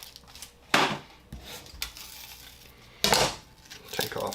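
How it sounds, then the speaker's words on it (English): Knife cutting the ends off an onion on a board, two or three sharp chops with scraping between them, close and fairly quiet. "Take the ends off our onion."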